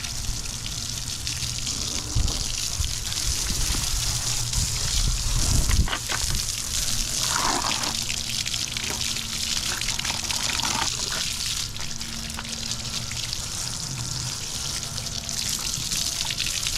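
Water from a hose splashes and gushes steadily over a Honda Goldwing motorcycle, rinsing soap off from the top down, a continuous close, loud spray with sloshing surges throughout and no talk.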